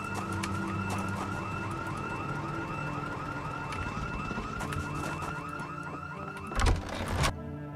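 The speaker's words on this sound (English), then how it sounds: "We've had an alarm go off before in Irvington, so a second alarm might not be that bad." A wailing alarm in the zombie survival game Project Zomboid, cycling rapidly and steadily for the whole stretch, fairly distant and constant, with a couple of brief thuds near the end.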